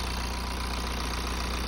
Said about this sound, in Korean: 엔진 소리도 조용하고